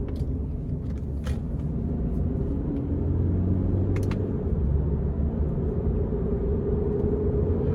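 Interior of a 2019 Subaru Crosstrek Limited on the move, with a steady low engine and road rumble droning evenly throughout and no one talking.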